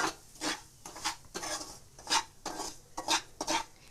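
Kesari bath semolina being fried in ghee, scraped and stirred with a spoon against the pan in a series of short dry rasping strokes, faint and close with no voices.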